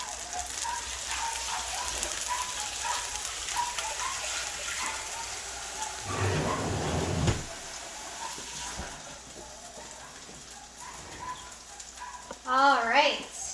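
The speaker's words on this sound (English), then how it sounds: "And you could already hear the sizzle." Leek and potato latkes sizzle in a frying pan with a soft, steady crackling hiss and a louder burst partway through as another patty goes in, and a voice speaks briefly at the end.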